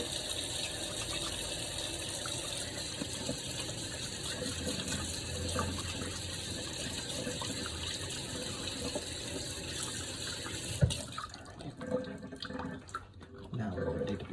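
Tap water runs steadily while hands are washed at a kitchen sink before cooking, a continuous broadband splashing stream that lasts most of the clip and then cuts off near the end, followed by a few softer handling sounds and clatter.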